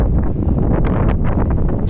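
Steady wind blowing across an open, unsheltered spot at the south end, a loud rumbling buffeting that swells in small gusts.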